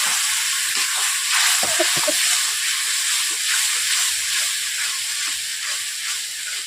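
Loud, steady hiss of steam and sizzling as water hits frying spices in a hot wok, with a few brief clinks early on.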